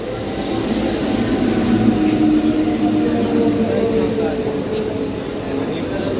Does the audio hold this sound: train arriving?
yes